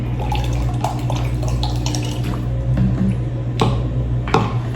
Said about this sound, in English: I'm gonna add water to the mop soap